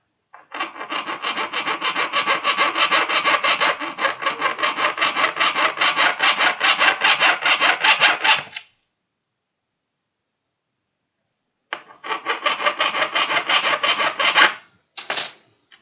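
A hand saw cuts a piece of wood for a model kit, giving long runs of steady rasping back-and-forth strokes, close and clear. A pause follows, then a shorter burst of sawing and a final brief stroke.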